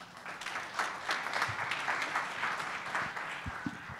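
Audience applause at a tech startup summit, a steady wash of many hands clapping that holds for the whole stretch, moderately loud with a few sharper claps near the end.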